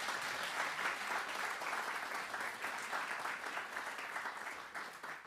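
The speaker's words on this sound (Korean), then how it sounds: "큰 박수로 맞이해 주십시오" Audience applause at an award ceremony as the last winner is welcomed, with a steady, full wash of clapping from a large crowd, sustained and even throughout with no voices.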